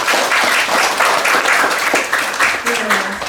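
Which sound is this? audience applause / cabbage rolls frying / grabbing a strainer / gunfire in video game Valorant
audience applause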